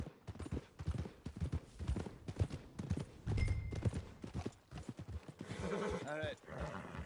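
Horse hooves clip-clop in Red Dead Redemption 2 alongside a horse's whinny, heard beneath steady in-game dialogue and ambient game sound.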